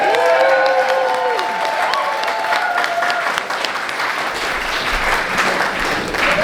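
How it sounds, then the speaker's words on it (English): Applause from an audience at a steampunk costume contest, sustained and dense throughout with scattered cheers and a few voices mixed into the clapping. "Give them a round of applause."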